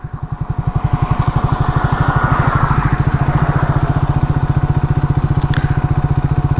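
A Triumph Speed 400 motorcycle moving slowly in first gear, its single-cylinder engine thumping in a steady, fast, even pulse at low revs, loud and close with road noise and a faint chirp near the end.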